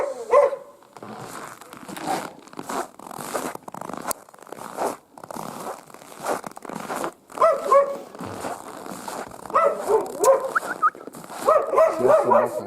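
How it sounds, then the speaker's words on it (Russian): A dog barks and yips in a series of sharp bursts, close and fairly loud, with quieter whimpering stretches and bits of rustling in between. "Сейчас собака, интересно."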